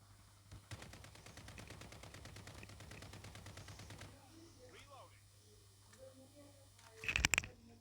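Automatic weapon fire in Call of Duty rattles in a dense, sustained burst lasting a few seconds, then falls quiet before a sharper, louder volley of shots near the end.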